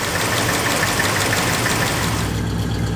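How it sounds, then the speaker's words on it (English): A Cadillac 346 cubic inch flathead V8 idles smoothly and quietly close by, a steady low hum with the soft rush of air moving through the fan, and no voices. "It runs so quietly, you can actually hear the air passing through the fan as it's idling."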